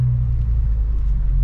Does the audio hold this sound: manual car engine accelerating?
yes